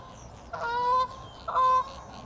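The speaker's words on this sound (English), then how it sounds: "It's the geese flying in." Two clear honks from geese flying in overhead, a second apart, against a quiet outdoor background.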